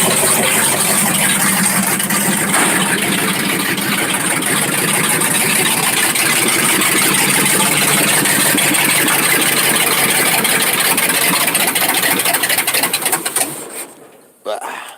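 A carbureted chopped-top 1957 car engine idles steadily soon after a cold start, a loud continuous rumble filling the whole stretch before cutting off abruptly near the end.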